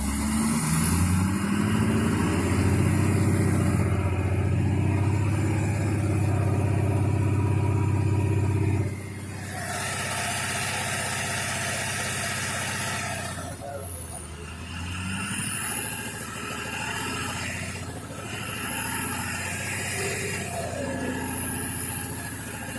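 A 6.7-litre Power Stroke diesel engine in a 2011 pickup, awaiting a rebuild, runs steadily and loudly up close, its low rumble easing slightly partway through, with a high whine and some background noise.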